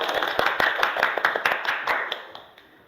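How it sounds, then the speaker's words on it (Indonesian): A class of schoolchildren claps for a student, a short run of fairly distinct claps in loose rhythm that fades out toward the end. "Baik, tepuk tangan untuk Sinta."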